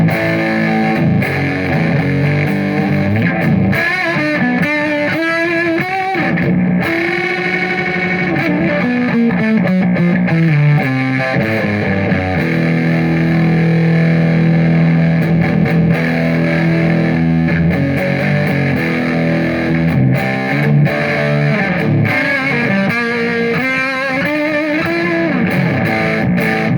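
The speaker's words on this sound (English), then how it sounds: "I'm going to turn up the fuzz more, I'm going to turn up the top end just a tad bit" Electric guitar, a Telecaster, played through an Earthquaker Devices Black Ash fuzz pedal into an amp with the fuzz and top end turned up, giving a loud, continuous distorted tone with shifting sustained notes and no talking.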